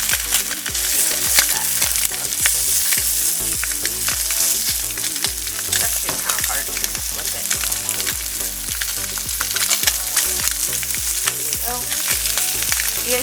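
Slices of Spam frying in a pan give a loud, steady, close sizzle with constant crackling and popping throughout, and no talking.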